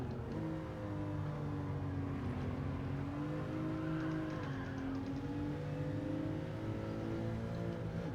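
A Volkswagen Beetle 66 with a swapped engine races around the Alsace track in Gran Turismo 7, its engine droning steadily and loud with rising and falling pitch as it accelerates and lifts through corners.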